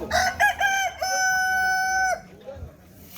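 A rooster crows loudly nearby in a long drawn-out call at a poultry market, with chickens clucking and a brief voice around it.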